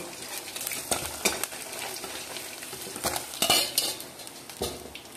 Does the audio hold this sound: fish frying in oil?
yes